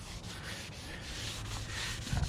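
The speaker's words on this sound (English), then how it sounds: "just scrub the shit out of this" Scrubbing of a polyurethane Nismo front bumper, prepped for a drift Z: a steady, close abrasive rubbing with a harsher burst near the end, no talking.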